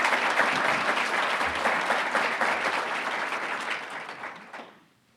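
Steady audience applause at a 2019 city State of the City address in Roseville, California, a dense sustained clapping from a large crowd that holds for about four seconds before fading out at the end.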